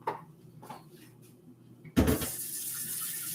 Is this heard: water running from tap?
yes